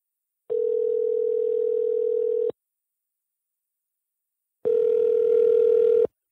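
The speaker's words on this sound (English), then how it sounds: "I try to reach John on the phone" A telephone ringback tone sounds during a call attempt: two long steady beeps separated by a silent gap, loud and clear with nothing else heard.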